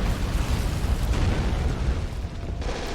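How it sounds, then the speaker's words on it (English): A tactical nuke detonates in the World War II strategy game Men of War: Assault Squad, a loud, sustained deep rumbling boom that rolls on for several seconds before easing slightly. "Alright, we got a tactical nuke."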